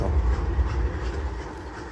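A train rolls along railroad tracks in a steady, deep rumble that stays close and fairly loud throughout, with a faint metallic clatter on top and no talk.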